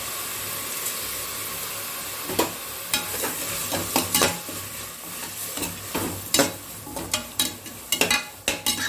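Chicken biryani ingredients sautéing in a pan with salt: a low hiss of frying underneath, broken by a run of close, sharp stirring clacks and scrapes that grow more frequent toward the end, with no talking.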